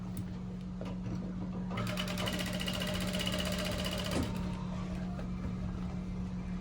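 A straight sewing machine stitches thread in a decorative design, running in a close, steady mechanical whirr with fast needle rhythm for a couple of seconds over a constant low hum, then stopping.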